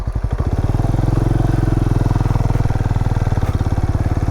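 A Benelli Imperiale 400 single-cylinder motorcycle engine runs steadily and loudly close by, its throbbing exhaust pulse holding an even rhythm throughout with no talk over it.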